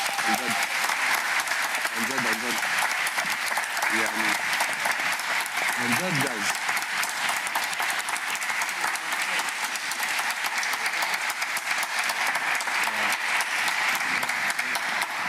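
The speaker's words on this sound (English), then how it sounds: "give a round of applause" Sustained, dense applause from a large crowd at the Cambridge Union fills the whole stretch, with a voice briefly speaking over it.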